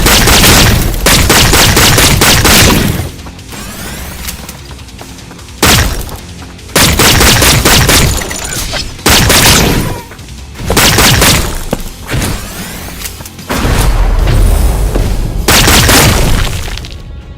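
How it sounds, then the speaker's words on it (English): Automatic laser pistol in the roguelite shooter Holy Shoot firing in loud, rapid sustained bursts with short pauses between, punchy blasts and crashing impacts stacked over game music. "It's actually an automatic laser pistol"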